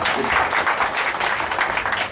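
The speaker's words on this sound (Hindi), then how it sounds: "अब एक बार जोरदार तालियां।" An audience claps with a strong, continuous patter at a statue unveiling ceremony. The applause is fairly loud and lasts the whole two seconds, with no speech over it.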